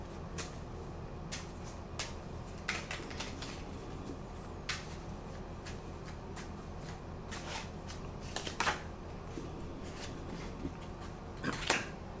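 Tarot cards are shuffled repeatedly at close range, irregular riffles and soft slaps over a low steady hum, with no one speaking.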